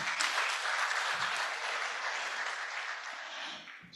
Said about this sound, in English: Can we clap for Ingentia?